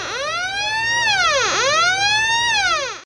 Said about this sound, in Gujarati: ધારો કે આપણે આ એમસીપી દબાવી તો આખી આ સાયરન વાગે